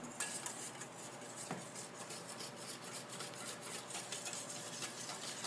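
Milk is whisked into beaten egg for pancake batter, giving a quiet, steady rapid scraping and clicking of a utensil against a bowl that continues throughout, close but faint, with no voices.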